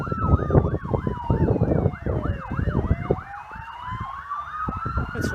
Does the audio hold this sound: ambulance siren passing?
yes